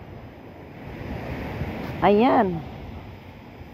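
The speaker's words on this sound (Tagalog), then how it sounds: "Basta ito guys yung dagat." Sea waves at a beach make a steady broadband rush of surf with wind noise on the microphone, and a voice speaks briefly over it.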